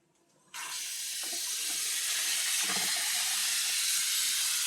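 Water begins running after a half-second of quiet and keeps flowing in a steady, fairly loud rush while laundry is rinsed with Pigeon fabric softener.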